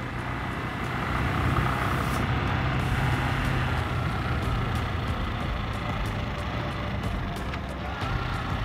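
A Coca-Cola truck rolls past on a street lined with restaurants and bars, its steady broadband engine and road roar loud and close throughout, with no distinct approach or fade.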